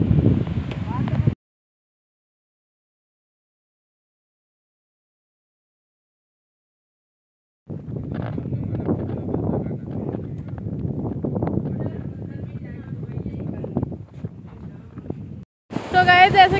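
Wind blows across a beach on the Pakistani coast, gusting and buffeting the microphone in a rough, loud rush, broken by a long silent gap and followed by brief talk at the end.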